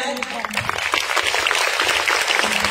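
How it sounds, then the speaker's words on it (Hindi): Applause from the audience at a charity welfare gala for children, a moderate wash of clapping building after a short moment, with voices and hall noise mixed in. "तो इस सोच के लिए एक बार 2 बार तालियां हो जाए।"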